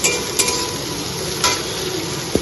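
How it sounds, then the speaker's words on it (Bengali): Sliced ridge gourd frying in a pan, a continuous close sizzle with a few soft clinks and scrapes of stirring, no voices. "আর এদিকে হচ্ছে ঝিঙে ভাজা।"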